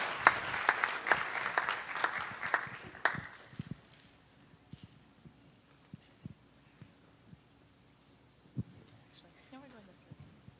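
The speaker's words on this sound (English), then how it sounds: "Please put your hands together for our esteemed moderator, Adam Simons." Loud audience applause for a debate moderator at a fluoride debate, a dense burst of clapping for about three seconds that quickly thins into scattered claps, footsteps and light room noise.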